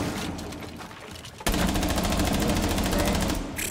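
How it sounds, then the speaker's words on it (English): Sustained automatic gunfire from a shooter game, Rainbow Six Siege on the Oregon map, firing out through a window; a quieter stretch gives way to a loud, dense burst of rapid shots that continues to the end. "I was just shooting out a window and I got somebody."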